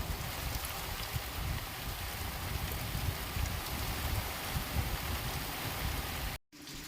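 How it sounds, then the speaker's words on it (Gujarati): Rainfall during an evening downpour, a steady broadband hiss of drops on surfaces that runs evenly throughout and is heard alone, cutting out abruptly near the end. "વરસાદ આવે છે, એકદમ વરસાદ આવે એવું લાગે છે"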